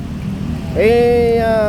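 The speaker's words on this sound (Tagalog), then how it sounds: "Umaandar ang makina." Car engine running during a traffic clearing operation on a street: a low steady rumble, then a rising harmonic whine joins partway through and holds, close and fairly loud.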